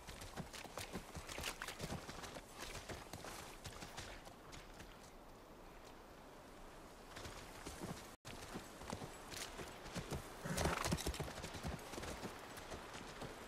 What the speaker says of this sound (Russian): Это наша лошадь, она должна быть там.